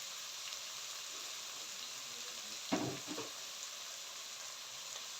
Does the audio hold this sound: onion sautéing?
yes